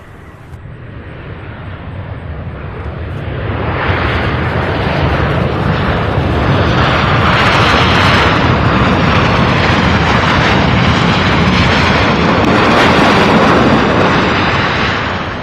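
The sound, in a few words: airplane arriving from Atlanta at Louisville airport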